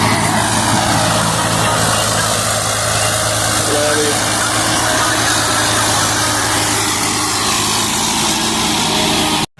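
A New Holland 5620 tractor with a maize machine runs steadily in second medium gear, its loud, continuous engine drone holding close and unbroken, with voices underneath.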